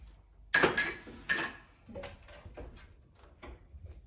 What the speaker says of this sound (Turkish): Tencereler de çok ses çıkartıyor.